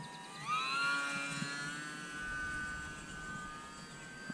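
A small UMX Pitts S radio-controlled model biplane on its maiden flight buzzes steadily overhead, its electric motor whine rising as the throttle comes up, then holding at a moderate distance without talk.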